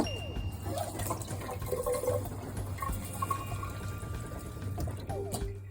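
Water runs and splashes unevenly from a faucet fed by an RV water pump, over a low mechanical hum, with gurgles and a few small clinks.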